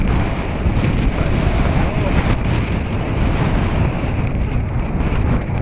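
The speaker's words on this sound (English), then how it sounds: "Wasn't this windy 10 minutes ago." Strong wind buffets a microphone outdoors in Iceland on the Snaefellsnes coast, a loud continuous roaring rush with gusty swells and no clear speech.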